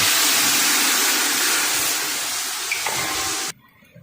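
A steady rushing pour of water into a cooking pot of spiced chickpeas, loud and close, that runs for several seconds and then stops abruptly, leaving near silence.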